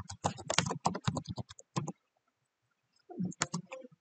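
Keys clatter in quick bursts on a computer keyboard while a chat prompt is typed, with close, crisp clicks, a pause of near silence, then another short run of typing.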